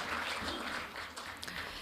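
Audience applause for forum panelists at the close of a discussion at an international governance conference; a steady, fairly soft wash of clapping that holds for about two seconds without any clear voices.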